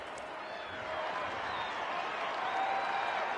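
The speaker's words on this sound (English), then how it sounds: "Crowd ready again for the kickoff." A stadium crowd in Rugby League 26 keeps up a steady, distant roar of cheering and applause that swells slightly toward the end, with a commentator talking over it.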